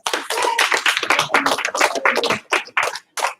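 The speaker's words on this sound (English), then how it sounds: "Give him 1 clap, 2 stomps" A group of karate students claps and stomps in quick bursts for a classmate, sharp hand claps and foot thumps landing close in an indoor practice hall, loud and repeated, then tapering into a few scattered hits.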